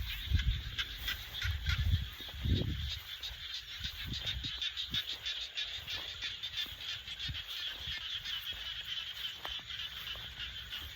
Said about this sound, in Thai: เสียงกบเสียงเทียบธรรมชาติดีครับผม